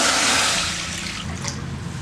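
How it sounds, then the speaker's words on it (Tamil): Water poured onto pearl millet in a cooking pot for a village-style porridge, a steady rushing splash that is loudest at the start and then settles to a softer, continuous trickle, heard alone. "1 டம்ளர் கம்புக்கு நம்ம 3 டம்ளர் அளவுக்கு தண்ணி ஊற்றினோம்னா நமக்கு கரெக்டாக இருக்கும்"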